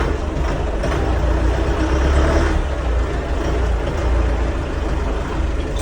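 A DongFeng 404 tractor drives in reverse, its engine a steady, close, low rumble that runs continuously without a break.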